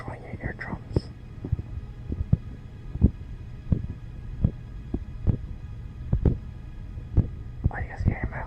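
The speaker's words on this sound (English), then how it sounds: "you guys can hear my heartbeat" Heartbeat pulse carried through hands pressed close to the microphone, a series of soft, low, regular thumps under a faint hum, with whispery voice sounds at the start and end.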